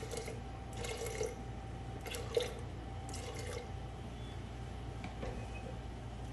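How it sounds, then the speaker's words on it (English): Water poured into a pot of dal made with turmeric splashes and trickles quietly, with a few brief splashy bursts over a low steady background. "And I'll add"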